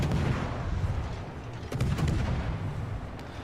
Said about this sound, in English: now I'm going to try to pull into position to shoot at this rune